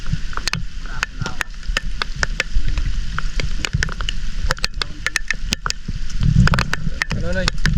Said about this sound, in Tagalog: Sobrang lakas ng ulan mga kanonoy.